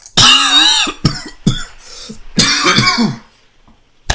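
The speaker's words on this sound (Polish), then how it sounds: "Jezu, przez ten kaszle." A man coughs loudly and close several times in quick, harsh bursts, with throat-clearing rasps between them, while playing a ski jumping video game.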